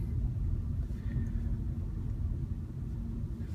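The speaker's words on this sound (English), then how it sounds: "As you can hear, this is a very smooth ride. It's almost completely silent." Inside a VW e-Golf electric car on the move, only a low, steady road and tyre rumble with no engine note, quiet and constant.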